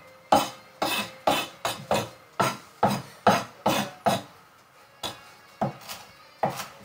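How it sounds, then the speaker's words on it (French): Knife chopping food finely on a cutting board for a Piedmontese salad, sharp regular taps in quick bursts, close and distinct with brief pauses and no talking. "l'idée c'est de vraiment hacher finement"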